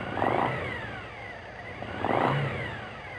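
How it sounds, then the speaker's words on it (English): Suzuki TL1000S V-twin motorcycle engine blipped twice, each rev rising and falling back to a steady idle, heard close and fairly quiet with no talking. "Rev the engine slightly a couple of times and allow it to return to idle."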